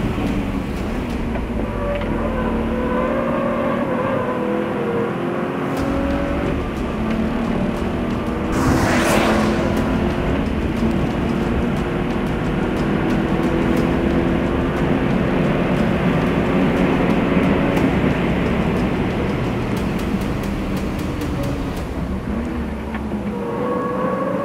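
A BMW 1M race car on hot laps around a track, the engine note rising and falling continuously with one brief harsh burst partway through; no talking is heard.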